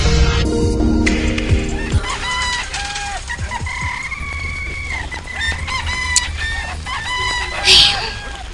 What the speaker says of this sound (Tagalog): Nagdululungan naman pamalo ang mga manok ko.